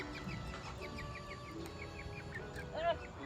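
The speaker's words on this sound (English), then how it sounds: "We're moving some of the chickens from our tiny chicken house so that there's more room for the less tiny chickens" Chickens cluck and chatter inside a small chicken house, a steady flock murmur with repeated short clucks and one louder squawk near the end, while people talk in the background.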